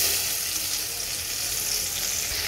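Cut drumstick (moringa) and potato pieces hit hot frying oil seasoned with cumin and bay leaf, giving a steady, dense sizzle that holds evenly throughout with no voices.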